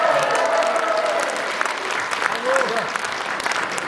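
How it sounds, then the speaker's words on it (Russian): An audience claps steadily at a 75th-birthday jubilee evening. The applause is dense and sustained from start to finish, and a voice rises briefly above it. "Хлопаем, друзья, хлопаем."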